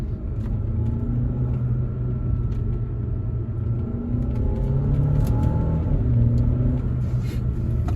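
An Audi A6 in comfort mode accelerates through the gears with a steady, deep engine rumble and smoothly rising tones, heard from inside the car with no talking.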